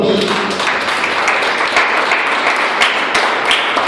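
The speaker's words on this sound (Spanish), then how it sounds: "aplauso a Dios." A church congregation at a Venezuelan apostolic youth service applauding to God, a dense, loud, continuous clapping that holds steady throughout with no voices over it.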